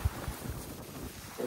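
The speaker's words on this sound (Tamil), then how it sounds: "காத்து இந்த மணிக்கு அடிக்குது இங்க. எப்பவுமே காத்து இருக்குங்க." Wind gusting across an exposed hilltop, a steady broad rumble of buffeting against the microphone with a few louder thumps, continuous and close, with no talking.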